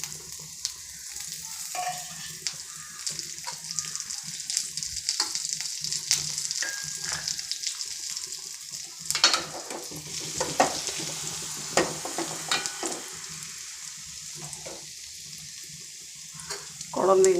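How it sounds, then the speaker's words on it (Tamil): Pepper, cumin and ginger sizzle in hot ghee for a tempering, a steady hiss running throughout with intermittent scraping stirs and small clatters close by. "நம்ம எடுத்து வச்சுருக்க அந்த மிளகு, சீரகம், கொஞ்சம் இஞ்சி போட்டு தாளிச்சிக்கலாம்."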